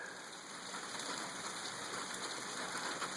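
Steady rain falling on an evening before a freeze, a dense, even wash of drops on surfaces, continuous and fairly faint with no voices.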